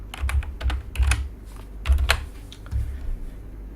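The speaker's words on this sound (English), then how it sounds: "Just type some message." Someone typing a message on a computer keyboard nearby, with short bursts of quick key clacks and brief pauses between them.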